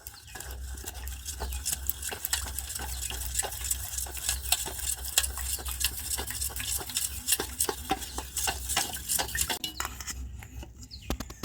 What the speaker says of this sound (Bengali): তো প্রত্যেকটাই আমি এইভাবে গুলে নেব।